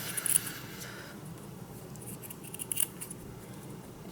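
Scissors trim a piece of collage paper during a tag-making craft session, giving a few quiet, brief snips over a soft room background.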